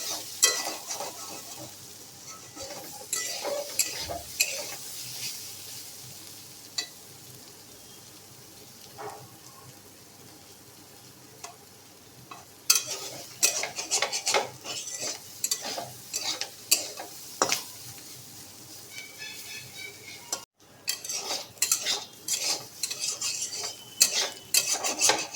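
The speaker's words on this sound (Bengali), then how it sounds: "এবার একে একটু ভালো করে ভেজে নেব।" Teasel gourd and potatoes frying in a pan, a continuous low sizzle broken by irregular scraping and clinking as a utensil stirs the pieces, close by, with busier stirring bursts in the second half and no speech.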